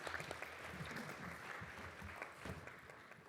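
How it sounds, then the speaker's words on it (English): An audience gives a round of applause at an investment forum, a steady, faint wash of clapping heard from a distance. "Let's give him a round of applause."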